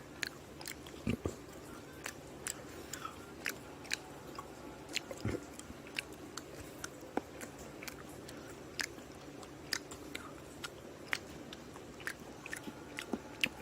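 A pet dog chews fried egg yolk close up, giving quiet, repeated wet bites and crunchy chomps at an uneven rhythm over a low room hum, with no talking.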